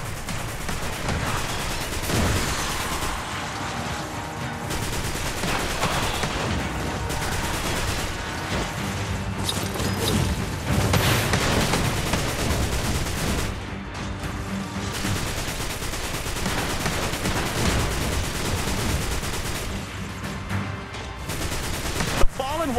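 Sustained gunfire from a team of Guardians shooting at a Fallen walker in the mobile shooter Destiny Rising: rapid bursts of automatic fire and booming impacts over a dense battle din, with voices calling out intermittently.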